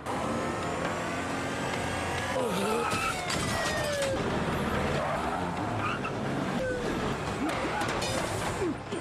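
Several cars in a movie action scene drive up and block the road, with engines roaring, tires skidding and squealing, loud and continuous under a dense mix of effects.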